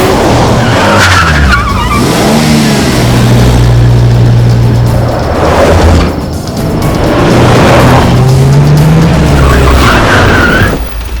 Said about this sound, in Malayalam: വാ വാ, വണ്ടി എടുക്കും.